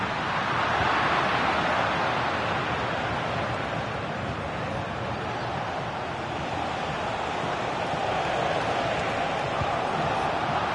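Crowd noise from a football career-mode video game: a steady, broad roar of stadium spectators that stays even and fairly loud throughout, with no distinct voices standing out.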